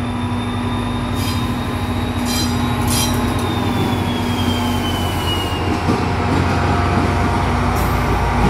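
A GP40 diesel locomotive train rolls past loudly and close, a steady heavy rumble with a sustained wheel squeal riding on top and brief metallic screeches near the start.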